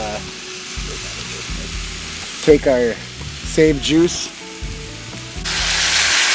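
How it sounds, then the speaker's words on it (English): Food sizzles steadily in a frying pan, loud and close, while a person speaks briefly over the crackle. "Good getting that sizzle."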